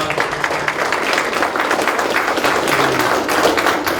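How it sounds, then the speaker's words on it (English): A town hall audience claps steadily for several seconds, a dense patter of hands with no voices over it. "let's give those an applause"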